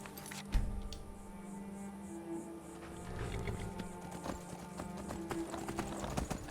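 Horse hooves clip-clopping in the video game Skyrim, a steady rapid patter over a low droning game soundscape, moderately close with no talking.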